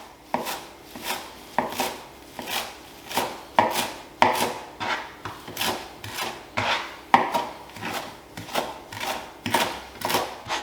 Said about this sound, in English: all you want to do is just finely chop up your parsley